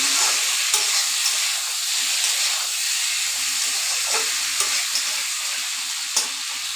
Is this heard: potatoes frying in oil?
yes